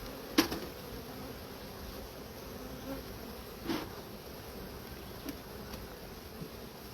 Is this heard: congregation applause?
no